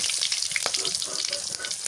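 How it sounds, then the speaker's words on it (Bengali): Fish frying crisp in a pan during a village cooking session, a steady dense sizzle with small pops and crackles running without a break close by. "মাছ ভাজি হয়েছে, একদম করকরা করে ভাজছি"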